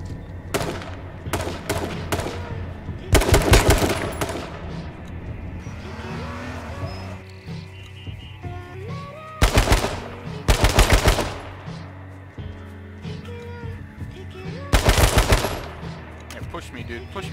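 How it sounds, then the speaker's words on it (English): Automatic gunfire in the battle royale game H1Z1 King of the Kill, several loud rapid bursts between quieter stretches of engine and vehicle noise, with scattered single shots and no speech. "you shot me through the fucking tree, bro"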